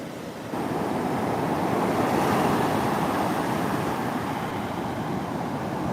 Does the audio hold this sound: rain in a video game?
no